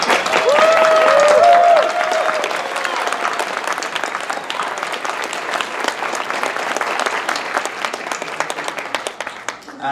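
Audience applause at a VA convention panel, loud and steady for the full stretch. A voice is heard briefly near the start above the clapping.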